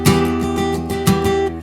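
A single acoustic guitar chord in second position, voiced 0-7-5-muted-8, strummed and ringing with a few soft re-strums, close and clear with no voices.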